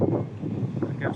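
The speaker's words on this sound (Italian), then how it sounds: "Si è alzato il vento" Wind blowing at a harbour during float fishing, a rough, buffeting rumble on the microphone that stays steady and fairly loud throughout, with no speech.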